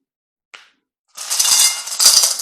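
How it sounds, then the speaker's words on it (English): A single light clink, then a pause and a rattling clatter of hard stones clinking against a glass vase, close and fairly loud. "I'm taking stones from my glass vase."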